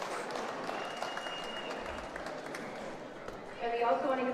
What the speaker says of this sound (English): round of applause for the Leprechaun League basketball players